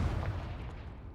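A Confringo blasting spell in Hogwarts Legacy erupts as a short, fairly loud booming burst with a rumbling low end that quickly fades.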